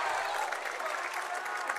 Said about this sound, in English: The crowd's getting a little excited